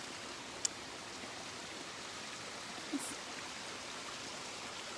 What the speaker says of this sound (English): We are just splashing around in one of the little waterfalls we have here on campus